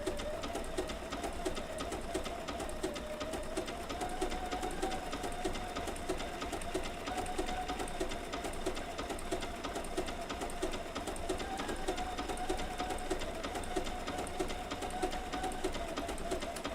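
Bernina B790 PRO sewing machine with an open toe foot stitching wool applique, a fast continuous mechanical whir and needle rattle running evenly and close up throughout, alone with no talking.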